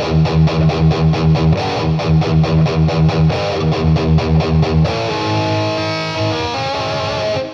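Heavily distorted electric guitar in a thrash tone through a BOSS Katana MK2 amp, playing fast, tightly palm-muted chugging riffs that open into sustained ringing chords near the end, loud and alone.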